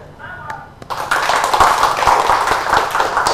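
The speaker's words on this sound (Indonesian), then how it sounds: "Sekali lagi tepuk tangan dong untuk Bapak Haji Julianto" Audience applause at a motivational community event: after a few soft taps, a burst of many hands clapping rises and continues steadily, loud and close, with a voice faintly underneath.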